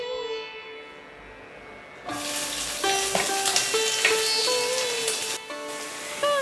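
Crushed small onions dropped into hot coconut oil for a Kerala prawn roast, a loud hissing sizzle that bursts in after a quieter start and holds steady and close, with clear tonal music playing throughout.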